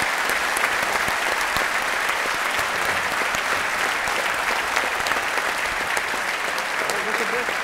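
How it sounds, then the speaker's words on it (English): A big round of applause from the audience for the guests at a live science talk, a thick, even roar of clapping sustained from start to finish with no words heard. "Let's please have a big rousing round of applause for our guests"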